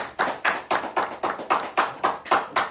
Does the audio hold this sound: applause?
yes